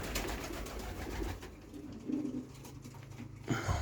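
Domestic pigeons cooing at a pigeon loft, soft repeated low coos with a louder burst midway and another near the end, no talk.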